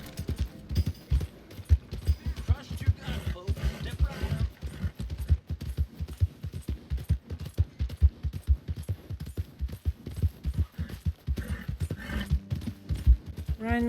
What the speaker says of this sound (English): Run, horsey.